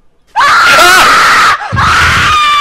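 A person screams loudly and continuously while reacting to a Slendytubbies beta horror game, one long sustained shriek followed by a short break and a second scream.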